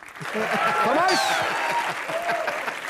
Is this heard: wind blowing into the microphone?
no